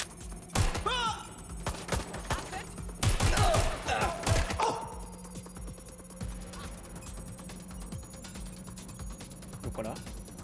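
Bursts of gunfire from Watch Dogs Legion, a London-set third-person shooter, crack in several loud clusters near the start and middle, then thin out to scattered shots over a steady game backdrop, with a voice talking between them.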